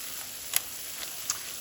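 Garlic and nearly cooked onions sizzle in a pan for butter chicken, a steady faint hiss broken by a few soft clicks and scrapes of stirring.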